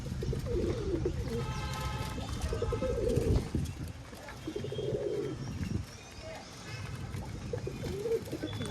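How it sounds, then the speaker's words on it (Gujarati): Pigeons coo softly in the background amid steady outdoor noise and a few faint chirps, with low rumbling sounds throughout. "કબૂતર ખાઈ છે, અહીંયા બેઠા છે"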